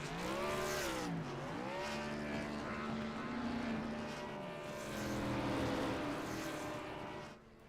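Race cars in a racing video game roaring along the front straightaway at Texas Motor Speedway, a loud sustained engine drone with pitch sweeping up and down as they pass.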